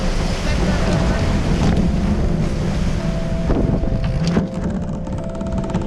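Racing boats crossing open ocean during the Stockholm Archipelago Raid, with loud, steady wind buffeting and rushing water and engine noise throughout, a few sharp knocks near the end, no voices.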